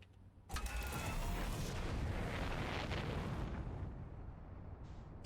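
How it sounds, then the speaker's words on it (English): A sudden, deep roaring blast as the sun goes supernova in the space exploration game Outer Wilds, swelling into a sustained rumbling wash that slowly fades over several seconds. "Stupid sun exploding the entire time."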